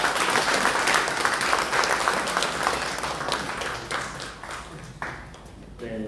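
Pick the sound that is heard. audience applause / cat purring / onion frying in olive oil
audience applause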